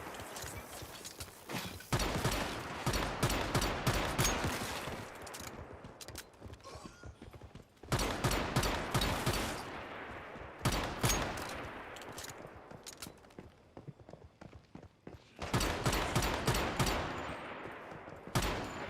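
A heavy gun in 7 Days to Die fires in three long, rapid bursts of rattling shots, each lasting a few seconds and separated by short pauses, loud and close with no talk.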